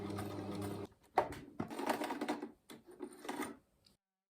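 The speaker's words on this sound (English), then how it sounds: "So I sewed the channel in the neckline" Domestic sewing machine stitching an elastic-free cord channel into the neckline of a handmade wedding dress, in rapid bursts of mechanical whirring with short pauses between runs.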